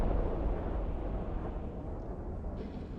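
A spaceship is destroyed in Eve Online, producing a heavy rumbling explosion roar that stays loud and dense for the whole moment, slowly easing off.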